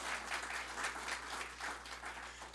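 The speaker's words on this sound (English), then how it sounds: "we're going to clap for her because she has been the advocate for this" An audience at a university executive institute gathering claps together in a brief round of applause. The clapping is soft and fairly distant over a low steady hum, with no talking heard.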